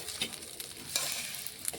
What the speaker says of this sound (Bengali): ঝরিয়ে নিয়ে দেখুন এইভাবে মাছগুলো তুলে নিচ্ছি।